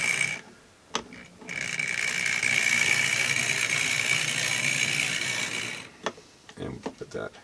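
A Tri-ang-Hornby 0-6-0 British Rail diesel shunter model locomotive runs on track with a steady close mechanical whirring buzz for several seconds, framed by clicks and a brief voice near the end.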